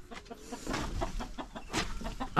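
A farmyard hen clucks close by in a short burst of several quick, uneven clucks, alone without talk.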